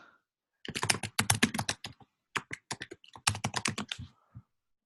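A search being typed on a computer keyboard: quick bursts of crisp key clicks close up, with a short pause in the middle and a few final taps, in an otherwise quiet room.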